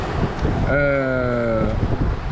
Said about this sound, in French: on est revenu avec nos 10-12 nœuds de vent là, direct, comme ça, en l'espace de 15 minutes